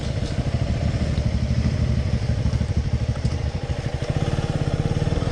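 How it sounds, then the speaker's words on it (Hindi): A motorcycle engine runs steadily close by outside a bamboo home in Ziro, a dense, even low throb that continues throughout with no talk. "वो तारी का भैया का बाइक है"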